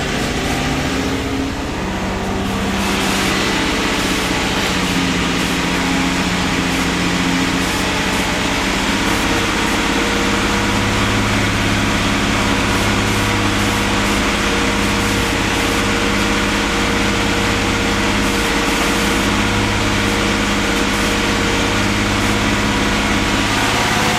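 AMC Eagle with a 258 inline-six idling after a TFI ignition upgrade: a steady, close rumbling idle running continuously and loud without a break, no voices over it.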